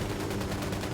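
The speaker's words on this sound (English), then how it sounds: "Opening fire on these fuckers." Sustained gunfire in Ghost Recon Wildlands, a dense, steady stream of shots fired at enemies with no gaps, loud and close throughout.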